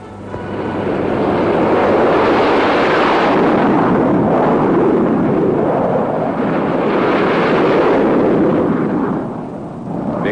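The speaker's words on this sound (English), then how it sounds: "To get off the deck, the Blackburns made use of the steam catapult, a device which makes it much easier to launch aircraft even in bad weather." Blackburn NA-39 Buccaneer bomber launched by steam catapult off an aircraft carrier deck, a loud, sustained jet roar that swells and holds for about ten seconds before easing slightly at the end.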